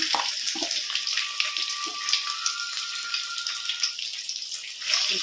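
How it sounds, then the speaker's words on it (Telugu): Garlic paste frying in oil for a pickle, a continuous close crackling sizzle with small pops and a faint steady tone running through it. "వెల్లుల్లి పేస్ట్ వేసుకున్నాను నూనెలో"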